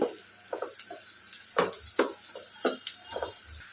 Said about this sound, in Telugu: ఆనియన్స్ మంచి గోల్డెన్ బ్రౌన్ కలర్లో వచ్చేంత వరకు ఫ్రై చేసుకోవాలి